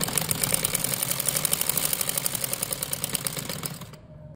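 A sewing machine stitches the seams of an umbrella frock in a fast, steady rapid-fire run of needle strokes, close and fairly loud, with no talking, then stopping abruptly near the end.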